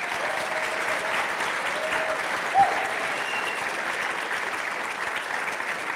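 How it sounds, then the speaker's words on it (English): A town hall audience applauds steadily, a dense, moderately distant wash of clapping lasting about six seconds with a brief voice in the middle. "Give them a round of applause."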